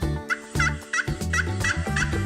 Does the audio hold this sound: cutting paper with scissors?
no